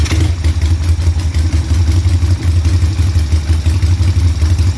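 A 1975 Harley-Davidson Sportster motorcycle engine runs at a loud, steady idle with a rough, lumpy low-frequency throb and mechanical clatter, recorded up close with no talking.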